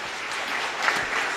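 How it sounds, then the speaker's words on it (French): Sustained audience applause at a talk on Beninese political history given to young people, a dense steady wash of many hands clapping throughout, fairly loud and continuous. "Est-ce qu'on peut applaudir encore, s'il vous plaît"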